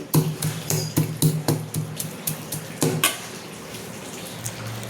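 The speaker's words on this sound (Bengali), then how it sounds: "আমি একটু এই বাটিতে একটুখানি থেতো করে দিয়ে দিচ্ছি।" Ingredients, fried onions among them, being pounded in a kitchen bowl: a run of sharp, close knocks in an uneven rhythm, spaced out and tapering off toward the end, with no talking.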